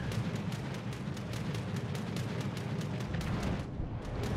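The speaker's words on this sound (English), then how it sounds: "And the AP rockets are back inbound again." AP rocket explosions in the naval combat game World of Warships arrive as a rapid string of sharp, evenly spaced bursts over a steady low rumble, loud and sustained throughout.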